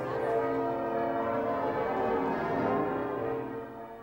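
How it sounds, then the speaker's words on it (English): Church bells peal at York Minster, a dense ringing wash of overlapping tones sustained at moderate volume for several seconds before easing slightly, heard under a broadcast mix. "A peal of bells at York Minster"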